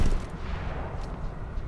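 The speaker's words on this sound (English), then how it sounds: "And just shoot the other snipers" Rapid sniper gunfire in the video game Mirror's Edge, a dense continuous burst of shots that stays loud and close across the whole moment, with no voices over it.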